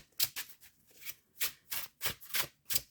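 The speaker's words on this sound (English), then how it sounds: "Go ahead and mute if the shuffling of these cards is a little too much." Tarot cards are shuffled by hand in a quick series of crisp riffling bursts, about eight papery rustles in an uneven rhythm, close and fairly quiet.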